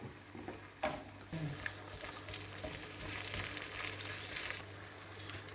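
Zucchini frying in hot oil in a pan: a close, steady crackling sizzle that jumps louder as the pieces go in and then holds a constant hiss with faint stirring.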